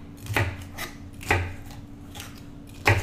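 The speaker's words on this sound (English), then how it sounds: "I'm chopping up everything." Knife strokes chopping mushrooms on a flexible cutting mat in a home kitchen, a handful of separate close, sharp thuds spaced irregularly, alone without talk.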